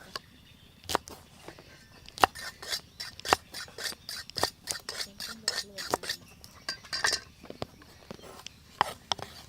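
A knife slices vegetables on a board for a spicy pork roll salad, with close, sharp cuts falling in an uneven but steady rhythm.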